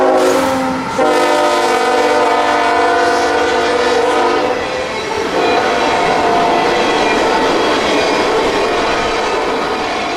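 Freight train 65Q, a string of empty ethanol tank cars out of Jacksonville, blows a loud, sustained horn and then roars past close by with a steady rumble and wheel clatter.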